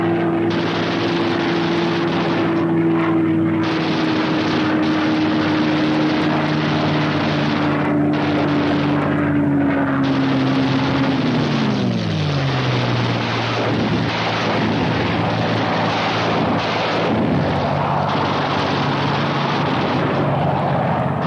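Fighter planes skimming low at maximum speed, a loud continuous engine roar with a steady tone that drops sharply in pitch midway as they pass, heavy rumble beneath throughout.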